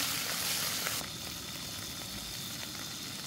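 Tomatoes and onions fry in a pan, giving a steady, close sizzling hiss that stays loud and even throughout, with a slight drop in level after the first second and no talking.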